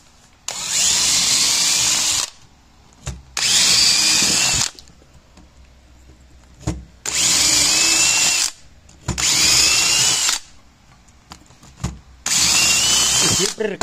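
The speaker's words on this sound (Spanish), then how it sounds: "hacemos presión con estas para que no se despostille al entrar la broca a esta parte" A drill bit bores into wood for a pantry build, with pressure applied so the wood does not splinter. Five loud, close grinding bursts of about two seconds each alternate with quiet pauses.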